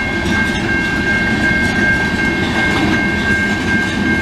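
A CN freight train rolls past in Montreal's St Henri borough in the evening, a steady loud rumble of railcars with a faint clatter and high whine sustained throughout.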